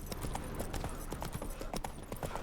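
Hooves of the horse Roach in The Witcher 3, a brisk rhythmic run of clopping hoofbeats on the ground, steady and fairly close.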